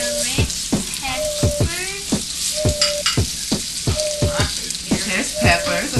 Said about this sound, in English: So what vegetables will we be stir frying today, Sloan?